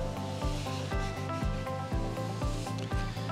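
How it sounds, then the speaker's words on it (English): A new sponge wipes grout haze off tiles in steady back-and-forth strokes, a close, even rhythmic rubbing about twice a second with no talk. "Nice new sponge, Tileless Tools. And what we do is we give that an overall wipe."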